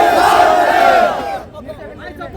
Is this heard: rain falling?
no